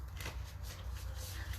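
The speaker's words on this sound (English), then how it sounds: "My hands are too little for really good shuffling." Oracle cards from the Whispers of Love and Kindred Spirits Energy Oracle decks being shuffled and mixed by hand, a soft continuous papery riffling and sliding that stays close and steady throughout.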